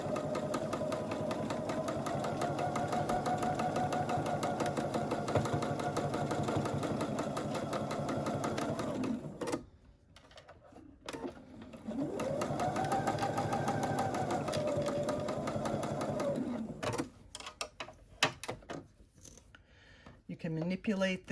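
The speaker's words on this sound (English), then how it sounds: "You do not want to stitch over the pins because it can ruin your sewing machine." A domestic sewing machine stitches fabric in two long steady runs, with a pause between them where the fabric is handled and faint handling noises are heard.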